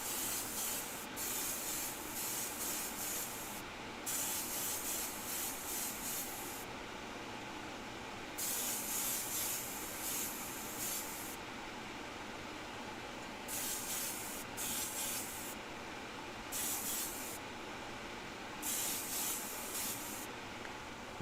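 Airbrush spraying a light second coat of Timbertech paint, the soft hissing bursts starting and stopping repeatedly, some short and some several seconds long, close and fairly quiet with no talking.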